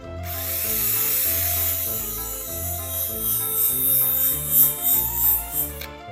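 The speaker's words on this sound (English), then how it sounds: "Let's just use the drill to clean this off a little bit." A power drill whirs against a carved pumpkin to clean it up, the motor holding a steady pitched drone while the bit rubs and scrapes the flesh in uneven bursts near the end.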